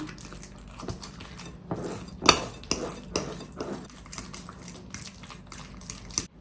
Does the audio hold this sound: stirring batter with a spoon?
yes